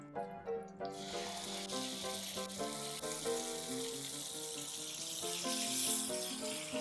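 Mung bean paste frying in hot oil in a wok, a soft sizzle under a steady musical background that carries on without talk.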